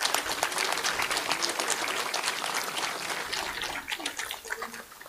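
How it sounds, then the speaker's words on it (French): An audience at a February 15 supper gathering applauds the council members, dense continuous clapping from many hands that gradually thins and fades toward the end. "je voudrais une bonne main d'applaudissements aux membres du Conseil du Rassemblement"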